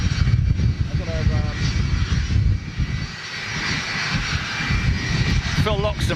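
EasyJet Airbus A320neo coming in to land, a broad jet roar that swells and eases slightly over its length, with brief bits of a person talking showing through the engine noise.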